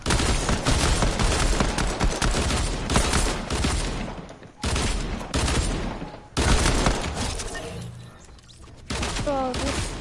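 Rapid bursts of pistol gunfire from a PS4 shooter game ring out loud and dense, cutting out briefly twice before resuming, with game effects layered in and no talking.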